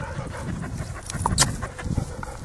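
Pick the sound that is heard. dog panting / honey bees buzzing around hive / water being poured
dog panting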